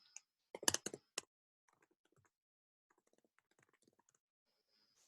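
A URL typed on a computer keyboard: a quick cluster of sharp keystrokes at the start, then scattered faint taps trailing off, close and quiet.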